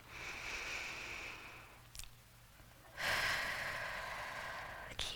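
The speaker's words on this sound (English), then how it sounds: "Blow out through your mouth like through a straw." Slow deep breathing exercise during an opening ceremony, with long audible exhales blown out through the mouth as if through a straw; two drawn-out breaths separated by a short quiet pause, close and moderately loud.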